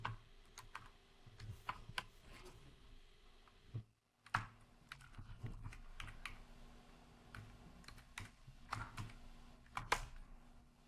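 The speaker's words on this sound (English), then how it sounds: "It seems like my typing skills are off today." Typing on a computer keyboard, with irregular bursts of key clicks and brief pauses, fairly close and alone with no talk.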